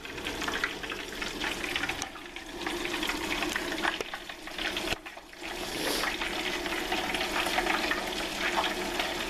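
Beer-battered fish frying in hot grease, a loud steady sizzle and crackle that briefly dips and swells, heard close up with no talking.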